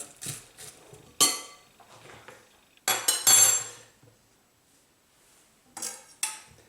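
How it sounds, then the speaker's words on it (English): A spoon stirs goat curry with onion in a metal pot, giving clinking scrapes in a few separate bursts with quiet gaps between them, close and moderately loud, no voices. "Let's get that stir through."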